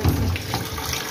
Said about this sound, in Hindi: पानी बहुत कम आ रहा है, पता नहीं क्यों पानी इतना कम आता है